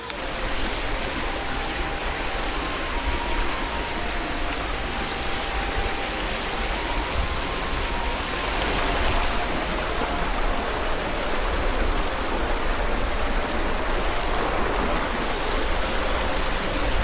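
River water rushes steadily and loudly during a crossing, a dense continuous hiss and churn of flowing water close by, with no voices.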